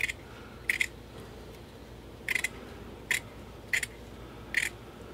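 Scissors snip along a row of a ghillie blanket where a string was pulled out, giving six short, crisp cuts at irregular intervals, close and clear over a quiet background.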